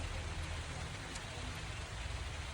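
Steady rain hisses down without pause in Vattavada, Kerala, a dense, even patter that fills the background with no voices.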